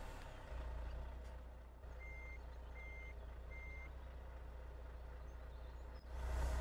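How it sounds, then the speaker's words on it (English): Reversing beeps from a truck in Farming Simulator 2013, three evenly spaced electronic tones over a constant low engine rumble, fairly quiet and with no talk. "I'm going to have to back that truck up a little more."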